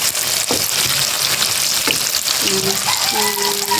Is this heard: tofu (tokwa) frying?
yes